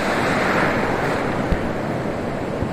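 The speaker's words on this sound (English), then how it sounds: "Big waves." Big sea waves wash ashore at high tide on a Goa beach, a loud, steady roaring surf with wind buffeting the microphone and a few faint knocks, no voices.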